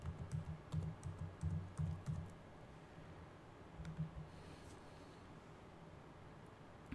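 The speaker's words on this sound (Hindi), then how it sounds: "ये नाम टाइप कर देते हैं" Keys clatter in quick bursts on a computer keyboard as a name is typed into a cloud storage console, close and fairly faint, with the typing stopping after about two seconds and a short burst later.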